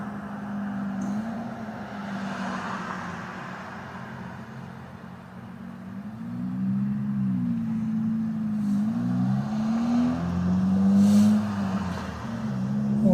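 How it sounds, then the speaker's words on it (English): A Mazda Miata engine revving with a steady low drone that rises and falls in pitch as the revs climb and ease. Heard from some distance, moderately loud, and growing stronger toward the end. "I think that's Sam's Miata."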